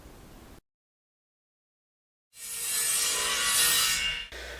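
Pine wood of a whiteboard frame being sanded, a short burst of near, steady abrasive hiss after a gap of silence, preceded by a faint brief rub.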